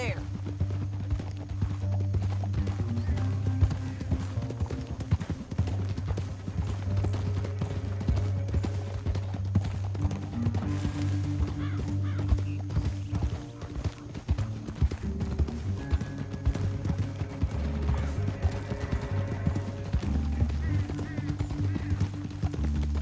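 Horse hooves clip-clop steadily through Red Dead Redemption 2 gameplay as riders travel toward a canyon, with occasional whinnies over a continuous music score and voices talking throughout.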